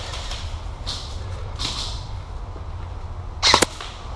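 Airsoft guns at an outdoor field: a few faint, soft pops spaced apart, then a sharper, louder quick cluster of shots near the end, with low rumbling background.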